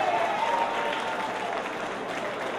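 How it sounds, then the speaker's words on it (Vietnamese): Loud applause from an audience at a charity fundraising event for heart surgery, greeting a singer-songwriter; dense steady clapping with light crowd murmur that cuts off abruptly at the end. "Kính thưa quý vị, một tràng vỗ tay thật lớn"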